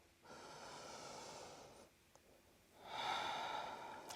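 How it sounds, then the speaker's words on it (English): Slow, deep yoga breaths through the nose: a long airy inhale, a pause, then a second rising exhale, close to the microphone and quiet, with no talking. "Breathing in and breathing out."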